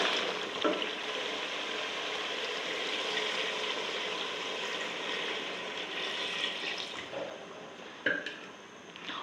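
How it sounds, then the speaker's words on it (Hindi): Water is poured into a pot of mutton frying in oil for a curry gravy, giving a steady, close hiss and sizzle that continues throughout, with a few sharper spits and clinks near the end. "अब इसमें मैं पानी डालूँगी, इसको गलाऊँगी"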